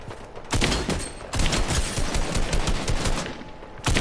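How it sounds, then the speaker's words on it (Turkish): Heavy automatic gunfire in a Fortnite Battle Royale fight, loud and close, coming in sustained bursts with brief gaps between them and no talking over the shooting. "Aa birisi vurdu."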